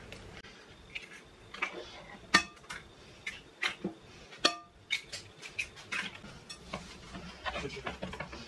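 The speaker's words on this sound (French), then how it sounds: "Alors je vais venir hop, casser les œufs." Three eggs cracked in a home kitchen, sharp taps of shell against a bowl rim among clinking dishes and utensils, a few crisp knocks standing out over soft kitchen clatter.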